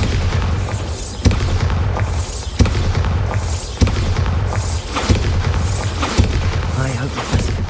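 Repeated magic spell blasts from Bombarda and Incendio in Hogwarts Legacy, booming explosions landing roughly every second and a quarter in a steady rhythm over continuous loud game background noise.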